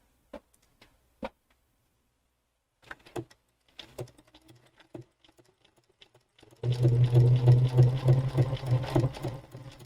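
A Bernina sewing machine fitted with a #86 ruffler foot ruffles Kona cotton, starting with a few faint clicks and handling sounds before breaking into a loud, steady whirring stitch run for the final few seconds.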